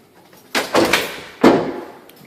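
Several wooden knocks and rattling thuds, three distinct bangs, from a sliding closet door that has come off its track being slid and bumped.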